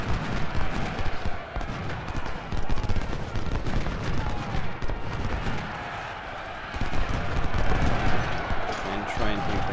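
Artillery and musket fire roll through a Civil War battle at Antietam in a strategy video game, a dense, continuous crackle of overlapping volleys with heavier thumps, loud and unbroken for the whole stretch.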